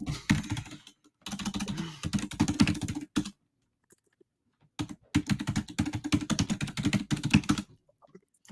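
Bursts of quick, close keystrokes on a computer keyboard as a password is typed, two separate runs of typing divided by a silent pause, with no voices.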